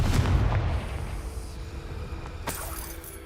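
A Confringo explosion spell from the video game Hogwarts Legacy bursts loudly at the start, a deep booming blast that fades into a rumbling tail, with a second, sharper crackle about midway.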